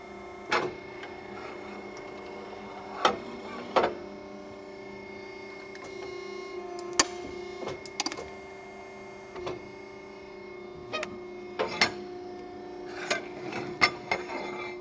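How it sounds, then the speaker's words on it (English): A Sunrise semi-automatic CNC ironworker punches holes in half-inch steel plate, with a steady machine hum underneath and several sharp, loud metallic punch impacts spaced irregularly through the run. "stepping on the foot pedal. Stripper comes down, holes punched."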